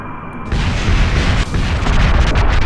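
Missiles exploding on impact in Kerbal Space Program set off a loud, sustained, rumbling boom that rolls on continuously with heavy low-end roar and no speech.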